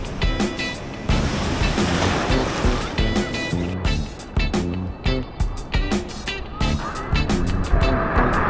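Large, powerful ocean waves at Founty Beach in Agadir, Morocco, a continuous loud roar of surf and sloshing water close by, with voices faintly mixed in.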